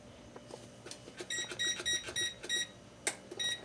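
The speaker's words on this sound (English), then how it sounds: "I'm going to set my timer" An oven timer gives a quick run of short electronic beeps in a rhythmic burst, then one more chirp and a final beep. The sounds are close and clear over soft kitchen clatter.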